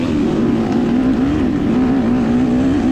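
A dirt bike engine in a hare scramble race revs hard and steadily while climbing a hill. The tone is loud, continuous and buzzing, with slight rises and dips in pitch.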